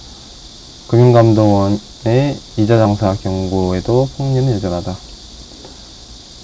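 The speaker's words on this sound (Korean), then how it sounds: "바깥에 여름에 매미들이 합창을 열심히 하고 있는데요" Summer cicadas chorus outside an open window, a faint, steady high-pitched drone that runs throughout beneath a voice speaking indoors.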